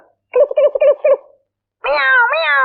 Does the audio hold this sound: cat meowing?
yes